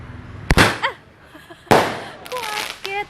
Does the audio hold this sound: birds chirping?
no